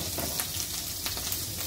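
Garlic butter with thyme frying in a pan, giving a steady close sizzle and crackle with a few louder spits, no voices.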